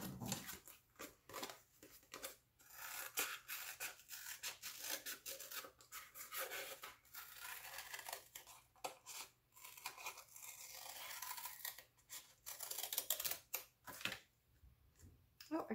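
Scissors cut through a recycled juice pouch with repeated close, crisp snips and rustling of the foil-like plastic, quiet and uneven in rhythm, with no talking.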